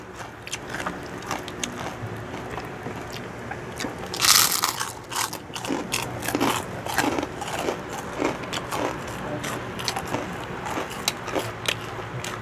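Close, crisp crunching bites of crispy pork chicharon, a sharp burst of crackle then steady chewing crunches continuing throughout.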